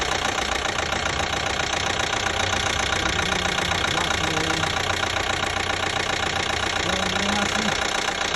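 A 2012 Chevy Equinox with the 2.4L engine idles with a steady, rapid ticking from the motor, loud and close, a continuous dense mechanical clatter with faint voices underneath.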